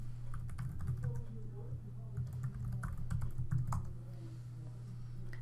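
Quick, close keystrokes on a computer keyboard as a username and password are entered on a login page, a light tapping over a steady low hum that fades near the end.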